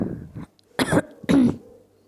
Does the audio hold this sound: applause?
no